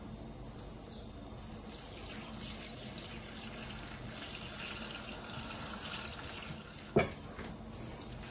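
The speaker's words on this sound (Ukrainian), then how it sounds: "І тепер акуратно це все заливаємо." Water is poured carefully over green tomatoes in a pot for pickling, a quiet continuous trickle and splash close by, ending with one sharp clunk.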